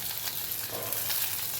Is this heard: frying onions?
yes